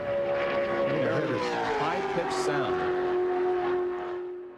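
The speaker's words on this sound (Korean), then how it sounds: "나스카 5000cc 엔진이 8000rpm으로 달리고 있을 때 소리" A NASCAR 5000cc engine running at 8000 rpm gives a steady, loud, sustained drone with a held pitch that falls slightly. It fades gently at the end, and a voice talks over it.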